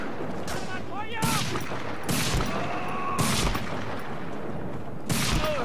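Several sharp rifle shots ring out in sequence, loud bursts spaced about a second apart, over a constant game background noise in Medal of Honor: Frontline.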